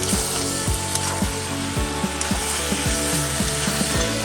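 Mutton with cumin powder sizzles and fries steadily in a pan while a spoon scrapes and stirs in a regular rhythm, close and fairly loud.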